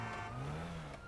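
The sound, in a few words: car approaching in a video game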